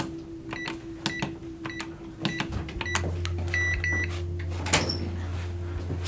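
Mechanical code lock on a time capsule being worked: a series of sharp clicks and clacks, a few short electronic beeps, and a low steady hum under the clicking, fairly close in a quiet room.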